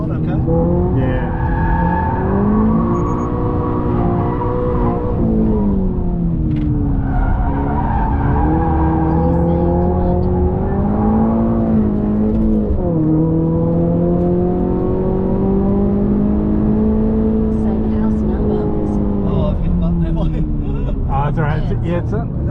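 A Subaru BRZ slides at Pheasant Wood, its engine droning with rising and falling pitch as it revs through the drift, loud and close throughout, with tyre noise and occasional voices inside the car.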